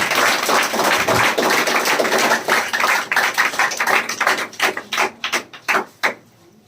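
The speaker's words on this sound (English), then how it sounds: "clap for them" Students in a spoken English class clap for classmates, a dense burst of many hands that thins out into a few scattered, separate claps before stopping.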